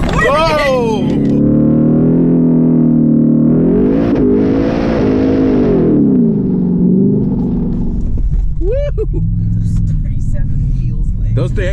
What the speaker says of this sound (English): We're going almost 70 miles an hour on the sand.